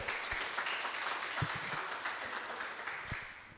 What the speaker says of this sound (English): Big applause for ICONBIT